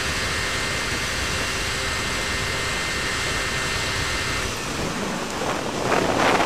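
A tuned Suzuki Satria 120 R motorcycle revs hard at 8000 RPM in sixth gear, giving a loud, steady, broadband roar that holds the whole time and swells slightly toward the end.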